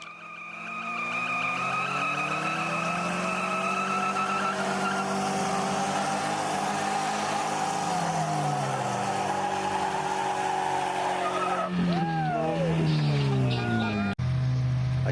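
A Jeep Cherokee driving in reverse races a Toyota Yaris at a Gambler 500 event in New York: steady straining engine drone with rising revs, then sharp tire squeals and skidding near the end, a voice faintly underneath.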